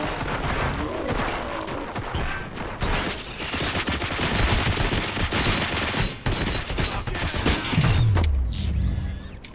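RoboCop: Rogue City shootout with rapid, sustained gunfire bursts, mechanical clatter and heavy impacts. The loud barrage continues throughout, ending in a deep booming blast.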